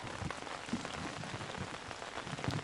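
Steady rain patters on a fishing shelter beside the water, a dense continuous hiss of drops with a few closer, heavier taps, moderately loud and without talk.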